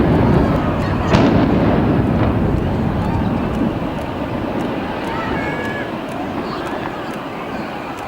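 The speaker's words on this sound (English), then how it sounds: "After standing for 70 years, cooling towers 6 and 7 at Blackburn Meadows power station had been destroyed." Cooling towers 6 and 7 at Blackburn Meadows power station being demolished by explosion, a loud broad rumbling roar that swells after a sharp onset and slowly fades, with crowd voices faintly underneath.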